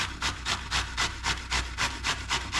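Zucchini being grated by hand, heard as a close, regular rasping scrape repeating about four times a second, each stroke a short gritty rub over a low background hum.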